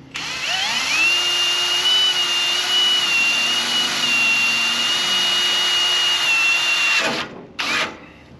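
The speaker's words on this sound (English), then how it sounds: "So let's go ahead, drill a hole." A power drill bores a hole in a Chinese mini excavator, whining at a steady high pitch for several seconds after spinning up, then cutting off, with a brief second burst afterward.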